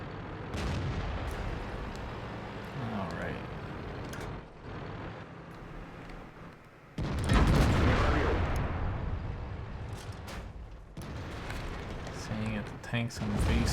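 Heavy tank cannon blasts and rumbling engine noise in World of Tanks, a loud booming shot near the middle standing out over continuous mechanical drone, with someone talking intermittently throughout.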